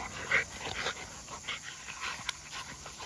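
Trained dogs playing with a ball, giving off short whimpers and panting in scattered bursts, close and moderately loud, with light scuffling between sounds.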